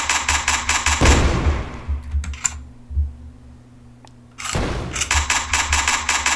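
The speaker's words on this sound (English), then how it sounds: "keep moving and keep shooting until eventually he is destroyed" Rapid, rhythmic bursts of gunfire hit a tank boss in the video game Geist, a dense stream that stops for a few seconds of quieter thuds and then resumes just as fast and loud.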